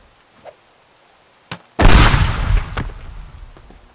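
A large explosion in the destruction game Teardown bursts in loud and sudden after a couple of small pops, then rumbles and crackles with debris as it fades over the next two seconds.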